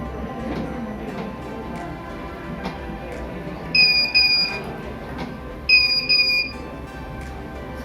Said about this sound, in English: So it is giving false alarm because I haven't connected these two up yet